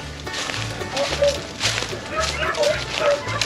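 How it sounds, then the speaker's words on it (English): Several beagles bark repeatedly nearby during a rabbit hunt in overlapping, excited yelps and bow-wows, with people talking and moving around them. "It's like a cacophony of barks."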